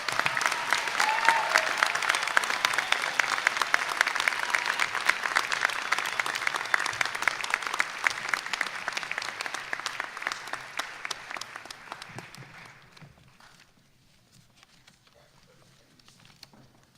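Large auditorium crowd at a winter commencement applauding the graduates, dense sustained clapping that thins and fades out near the end.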